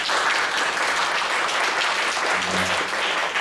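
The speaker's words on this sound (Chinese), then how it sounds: "我们给他掌声好吗？" A congregation at a Chinese-language church service applauds in a steady, dense wash of clapping that stays full and loud throughout, with no gaps.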